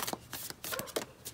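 Tarot cards shuffled by hand in several quick riffling bursts with short pauses between, close and moderately loud, no talking.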